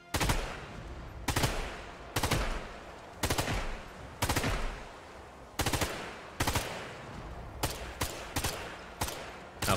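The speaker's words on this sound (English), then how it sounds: "Let's try over the shoulder shooting." Rifle fire in the video game Sniper Elite 5, shot over the shoulder: about a dozen loud, sharp single gunshots spaced roughly a second apart, each with a short echoing tail, and no speech.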